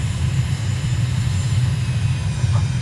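A steady low engine drone from an airliner touching down on a runway in Microsoft Flight Simulator, continuous and fairly loud with no distinct impact, the rumble holding evenly throughout.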